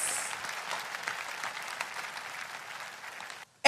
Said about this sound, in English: put your hand together for louder for Jesus